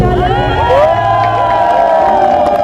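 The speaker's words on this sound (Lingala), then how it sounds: "Est-ce qu'on peut acclamer pour elle?" A crowd of mourners at a funeral bursts into loud, sustained cheering and acclaim, with shouts and whoops over dense, continuous noise throughout.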